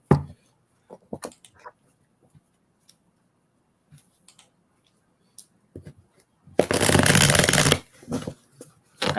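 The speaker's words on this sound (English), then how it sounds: "You almost sound like Jamie when she shuffles her cards" A loud burst of tarot cards being riffle-shuffled, a rapid fluttering rush near the end, after scattered light taps and handling noises in a quiet room.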